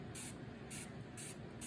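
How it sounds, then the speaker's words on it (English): Three short hissing bursts from a spray bottle misting water onto the dry curly hair of an American Girl doll, spaced evenly, close and fairly soft over low background noise. "I still have a nice spray bottle here because some of these parts are more dry than they should be."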